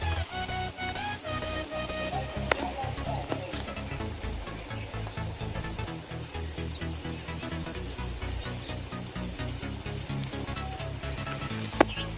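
Dried chillies frying in hot oil for chilli chicken, a soft continuous sizzle and crackle with a few sharp pops and faint stirring clinks, moderately quiet and steady, with no talk.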